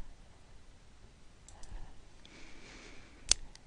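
A single sharp computer mouse click while confirming a settings dialog, faint and brief, preceded by soft background rustling in a quiet room.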